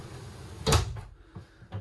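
A wheelhouse door on a 2021 Jeanneau Merry Fisher 795 Marlin boat slides shut in one firm, fairly close thud, followed by a couple of faint softer knocks in a quiet cabin.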